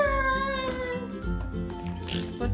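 A cat meows in long, drawn-out, wavering calls, repeated several times close to the microphone.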